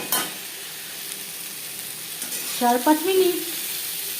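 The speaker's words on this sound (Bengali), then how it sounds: "4-5 মিনিট বেগুন ভেজে নেব।" Eggplant frying in oil with salt and turmeric gives a steady, close sizzle throughout, with a short stretch of speech over it near the end.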